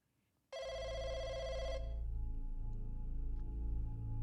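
A public telephone in a video game rings once, a bright electronic trill lasting about a second, then cuts to a steady low background hum.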